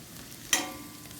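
Whole spices such as cumin, coriander, cinnamon, cloves and cardamom fry briefly in a pan for a fish curry, with a single short stir-and-sizzle burst over a faint, steady background.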